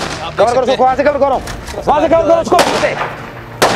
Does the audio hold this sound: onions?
no